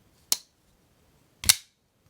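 Two crisp clacks about a second apart as the blade of a Shirogorov Custom Division Neon NL pocketknife is deployed, each a sharp close snap with a brief metallic decay, the second slightly stronger, with nothing else audible.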